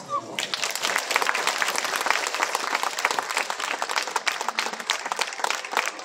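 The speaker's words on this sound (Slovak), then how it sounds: "Prosím vás o potlesk." Dense, steady applause from an audience at a children's folk wedding celebration, honouring parents, grandparents and sponsors, fills the whole stretch at an even loudness after a brief quiet start.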